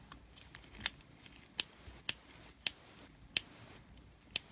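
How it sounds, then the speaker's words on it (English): Sharp metallic clicks from the mechanism of a Herbert Schmidt Texas Scout .22 Long Rifle revolver during a rebuild, about eight crisp, close clicks at irregular intervals over a quiet background. "Nice clicky noise."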